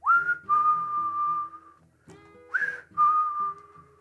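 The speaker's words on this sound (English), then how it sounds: "This one probably has one of the best, if not the best, whistling theme songs." A clear, melodic whistled tune in long sustained notes, phrased like a Chuck Norris movie theme melody, with a short pause midway before the melody resumes.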